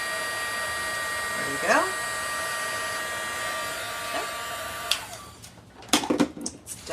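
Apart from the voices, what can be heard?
heat embossing tool blowing hot air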